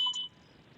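A DJI OM4 handheld gimbal gives a short electronic beep as it powers on, a quick bright tone at the very start, then near silence.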